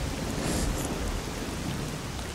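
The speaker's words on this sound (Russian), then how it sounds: "Да, сейчас гроза." Steady rain and stormy rumble from a thunderstorm in the game S.T.A.L.K.E.R. Call of Pripyat, a continuous even wash of downpour with low rolling undertone, fairly loud and uninterrupted with no talking.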